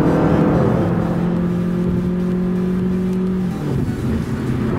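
A car engine accelerates hard while merging onto a freeway, heard from inside the cabin as a loud, steady rising drone with road rumble that eases off near the end.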